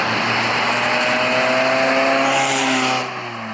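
A 1986 Toyota MR2 held in fifth gear, its engine drone steady and loud from inside the cabin, a smooth continuous hum with faint harmonic whine, easing slightly near the end.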